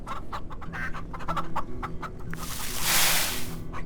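Chickens in the Farm Together game cluck steadily in a busy farmyard chorus, close and clear, with a burst of broad hissing noise washing over the end.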